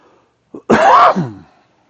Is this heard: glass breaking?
no